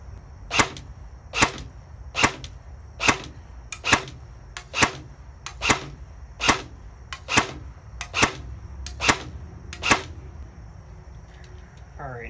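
Snow Wolf Barrett M107 Gen 2 airsoft AEG fired in semi-auto from a bench rest with 2.5 g BBs: about a dozen sharp, evenly spaced shots roughly a second apart, each a crisp crack close to the microphone, with no talking.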